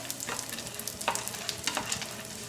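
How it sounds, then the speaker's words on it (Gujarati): Almonds, cashews and pistachios roast in leftover ghee over a low flame. A soft, steady sizzle runs throughout, broken by a few scraping stirs. There is no talking. "હવે આપણું જે આ બચેલું ઘી છે તેમાં જ આપણે ડ્રાયફ્રૂટ રોસ્ટ કરીશું"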